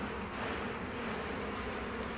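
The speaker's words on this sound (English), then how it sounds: "now I'm gonna shake some bees down, just let them divide up" A dense, steady buzz of many honeybees shaken from a hive frame, swarming close by, loud and continuous without a break.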